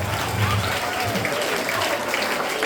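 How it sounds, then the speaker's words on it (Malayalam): Audience applause at an anniversary cultural day function, a continuous dense clapping from a crowd filling the room, steady and fairly loud throughout. "കൈയടിച്ചേ."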